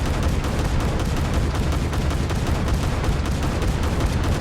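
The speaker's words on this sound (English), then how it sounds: "2 automatic 40mm Bofors L60 cannons on the bow and stern, so which we're going to fire right now." Twin automatic 40mm Bofors L60 cannons on the bow and stern of a PT-15 boat fire in War Thunder, a loud, dense, continuous stream of rapid thumping shots with no pause throughout.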